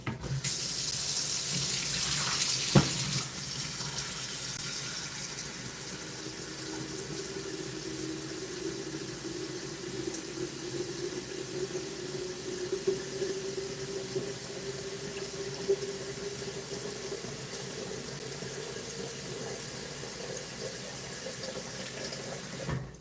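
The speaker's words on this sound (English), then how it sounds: "I'm going to add more water to this so it can start boiling." Tap water runs steadily into a pan in a kitchen for over twenty seconds, a close and constant rush whose tone slowly rises as the pan fills.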